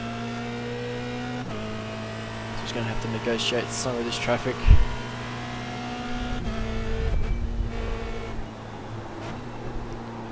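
A race car engine sounds from the cockpit in iRacing, a small engine with a seven-gear box, lapping Interlagos on a medium downforce setup through traffic. Its steady droning note shifts as the car works through gears, with someone talking over it.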